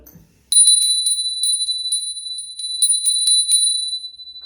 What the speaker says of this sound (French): donc je vais mettre la petite cloche